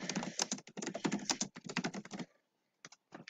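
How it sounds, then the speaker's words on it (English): Quick bursts of typing on a computer keyboard while a sign is being made in Inkscape, keys clattering in close, uneven runs before a short pause and a few last taps. "Click text down there, and you can type."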